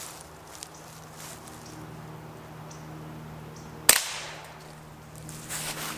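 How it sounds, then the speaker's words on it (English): A single sharp crack from a .22 Long Rifle Ruger Charger pistol fired outdoors, one loud close report standing out against quiet background with faint rustling before and after. "So here we go, 22 long rifle, Ruger Charger."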